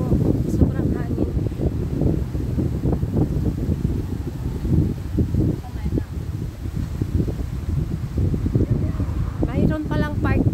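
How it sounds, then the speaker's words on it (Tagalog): Heavy, gusty wind buffets the microphone in a loud, continuous low roar on a walk in Piraeus, with brief bits of voice breaking through. "Sobrang hangin."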